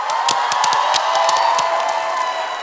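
A crowd claps and cheers, with a few whoops, as a singer is welcomed onto the stage at a national song competition. The applause is loud and sustained throughout, over a steady tonal hum.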